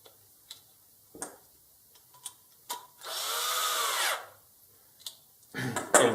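A lock nut being driven onto a Traxxas Stampede 4x4 front bumper brace with a small power driver: a sharp whirring burst of about one second between scattered ticks and clicks, ending in a second short whir.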